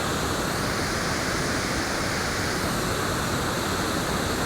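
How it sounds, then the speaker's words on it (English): A loud waterfall roars continuously, a dense, steady rush of falling water close by with no voices, at Indian Leap in Norwich, Connecticut. "Hopefully you can hear me over the din of this very loud waterfall."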